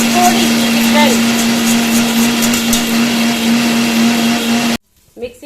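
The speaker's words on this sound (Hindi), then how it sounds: "मिक्सी की आवाज आ रही है, चटनी पीस रही है" A loud, steady electric mixer grinds chutney continuously for several seconds, then cuts off abruptly, leaving faint sounds afterward.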